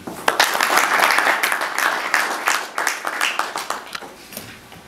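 A crowd at a tribute event for a veterinarian claps for the organizing staff, a full round of applause that thins into scattered, separate claps toward the end.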